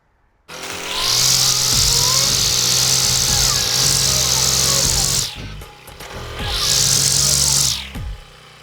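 A motorized grass cutter runs close by with a loud, high engine whine, holding steady for several seconds, dropping briefly, then surging again before cutting off.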